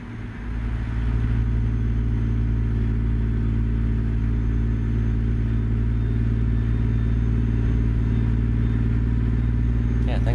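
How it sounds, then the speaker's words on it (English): A heavy truck in American Truck Simulator, a Great Dane trailer in tow, drones steadily with a loud low engine rumble throughout, starting quieter and holding a constant cruising level with no speech. "be quiet the rest of the episode and you guys can listen to the truck"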